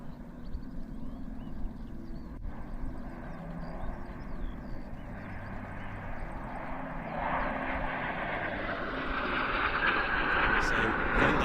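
An aerobatic propeller aircraft flies a quarter clover manoeuvre at an airshow practice in Leszno, its engine a distant hum that swells steadily louder in the second half as it climbs and turns, with speech faintly underneath.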